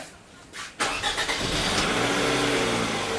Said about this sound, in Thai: เดี๋ยวผมจะสตาร์ทนะผมจะสตาร์ทครับ